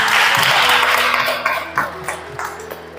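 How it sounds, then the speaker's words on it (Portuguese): Congregation applauding in a church, a dense wash of clapping that is loud and close, with tonal ringing and a few voices underneath throughout. "Dê uma salva de palmas a Jesus."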